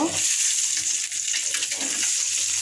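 An egg fries in hot oil in a pan, a loud, dense and continuous sizzle close by with a few brief dips and soft stirring noises, no talking.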